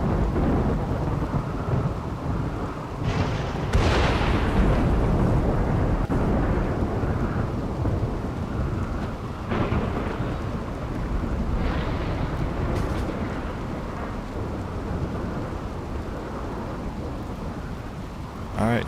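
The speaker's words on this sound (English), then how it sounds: "It rains on this map." Steady rain and rolling thunder from a stormy map in the video game RimWorld, with broad continuous noise and several louder thunder swells rising over the downpour throughout.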